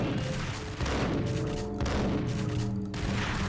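Dense, continuous rapid gunfire and booming shots from a video game shootout, with the bursts layered into a loud, sustained barrage and no clear pause throughout.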